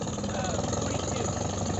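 A 1942 Case LA tractor idles at an outdoor antique gas engine show, its steady low chugging rumble continuing close by while a voice speaks faintly over it.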